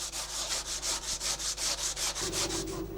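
A hand plane smoothing the wooden front of a traditional threshing board, with quick, even, rhythmic scraping strokes close by and no voices.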